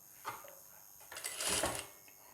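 A sewing machine stitching a designer blouse along a drawn curve, with short bursts of rapid mechanical whirring close by, growing louder in the middle before easing off.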